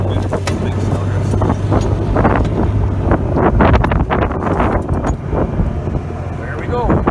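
A tractor fitted with a three-point hitch grabber works through deep snowdrifts, its engine drone steady and close beneath heavy wind buffeting on the microphone, with someone talking over it.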